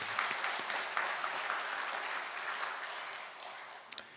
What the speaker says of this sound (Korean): 우리 따뜻한 박수로 환영하겠습니다.